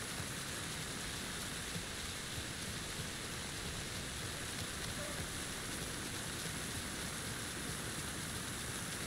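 Steady rain falls in the video game Alan Wake 2, a constant soft hiss and patter without pauses, faint and even throughout.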